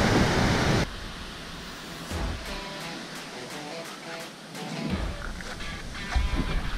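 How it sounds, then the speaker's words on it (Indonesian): Ocean waves breaking on a rocky shoreline at a fishing spot, a loud rushing wash at the start that fades to a softer surf hiss, then swells again near the end. "Ombaknya nyampe di pinggir sekali."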